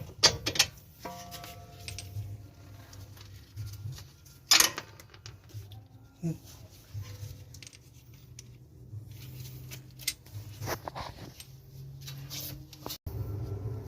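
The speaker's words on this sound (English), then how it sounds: "Now it's just a matter of removing those bolts and swinging the knuckle out of the way." A wrench works bolts loose from the strut knuckle of a 2011 Honda Odyssey, giving scattered metallic clicks and ratcheting taps with a few sharper clanks, close and fairly quiet against a low room hum.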